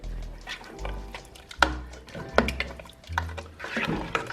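Spoon stirring salt into Nigerian chicken stew in a pot, soft wet scraping and clinking strokes in an irregular rhythm, close and fairly quiet.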